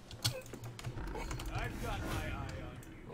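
Computer keyboard keys clicking in quick, uneven bursts while someone plays Smite, close and fairly quiet, with a voice talking over parts of the typing.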